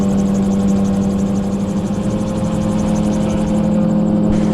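Helicopter in cruise flight at around 3,500 feet, its engine and rotor making a steady, loud, continuous drone with a strong low hum and a fine rapid beating throughout, with no voices heard.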